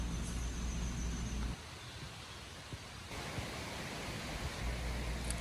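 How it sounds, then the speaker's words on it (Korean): Mountain valley stream in a Korean forest gorge flowing steadily, a continuous broadband rush of water heard alone, with a brief softer dip midway before the fuller wash returns. "개인 약수 계곡의 계곡 물소리와 풍경을 감상해 보시죠."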